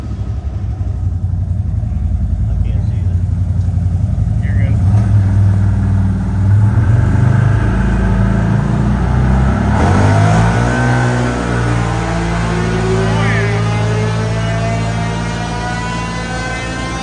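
A CFMOTO engine revs hard on a dyno test run, loud and close. The pitch climbs and holds, dips briefly, then sweeps up again in a long rising pull before easing down.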